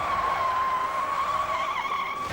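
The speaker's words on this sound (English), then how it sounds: "went back to the right, skidded, and hit a fence and a tree" A heavy car skids during a high-speed police chase in Sacramento, California, its tires giving a loud, steady, sustained squeal that barely wavers across the whole stretch, with no voices heard.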